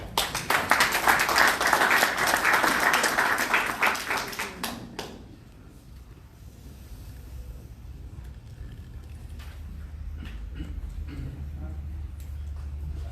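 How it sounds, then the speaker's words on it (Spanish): A welcoming round of applause from the audience at an oral litigation seminar on pretrial detention hearings, dense and fairly loud for about five seconds before fading into a quieter room with light rustling and murmurs. "a quien le brindamos un cálido aplauso, por favor"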